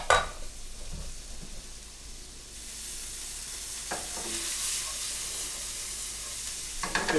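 Fresh herbs such as parsley, thyme and rosemary saute in a pan for a Provencal sauce, giving a steady close sizzle with a few stirring scrapes and utensil taps, the frying hiss swelling partway through.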